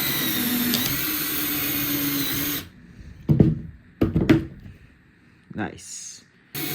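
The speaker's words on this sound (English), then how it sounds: "Time to test out the drill before I go outside." A cheap $20 cordless drill with standard bits whirs steadily for a couple of seconds, then stops, followed by a few short bursts and clunks.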